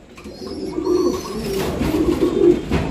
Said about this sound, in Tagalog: So ayan yung mga kalapatids na.